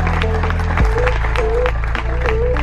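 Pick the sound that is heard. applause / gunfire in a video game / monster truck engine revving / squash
applause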